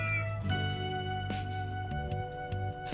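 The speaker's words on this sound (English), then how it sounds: "Oh, there's a little cat over there." A small cat meows in the Trails Through Daybreak game, a clear tonal meow sounding over a steady synthesized music bed with soft chimes.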